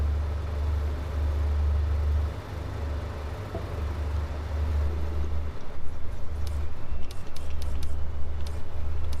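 Car engine from the Project Motor Racing video game, a steady low drone holding through most of the stretch with a brief dip, then rougher and louder toward the end with a few short sharp clicks.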